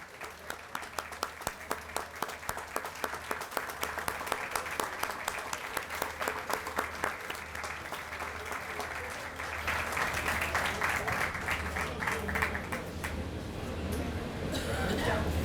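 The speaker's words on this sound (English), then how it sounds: "please join me in applauding for their commitment" An outdoor groundbreaking ceremony crowd at the Bay of Pigs Museum applauds museum board members, a long, steady patter of many hands that swells louder partway through, with a low hum underneath.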